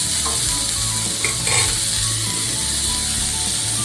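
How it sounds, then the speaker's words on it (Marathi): Onion fries in ghee and oil for a jowar-flour amboli, a loud continuous sizzle with faint stirring scrapes and no voices. "हा कांदा छान मी आधी फ्राय करून घेते"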